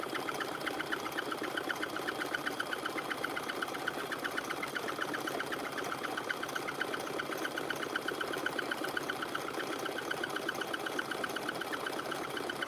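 A sewing machine runs steadily, stitching rope for a beaded rope basket with a fast, even mechanical chatter that stays close and constant throughout.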